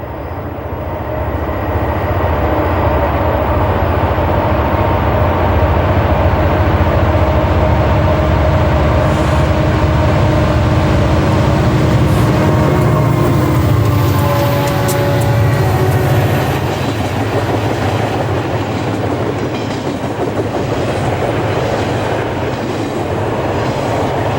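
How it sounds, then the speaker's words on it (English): A Conrail freight train bound for Rutherford rolls through Mineral Point, a loud, steady rumble of engines and wagons with clattering wheels and faint squeals sustained throughout. "we catch the Rutherford-bound RR 282 as it makes its way through Mineral Point."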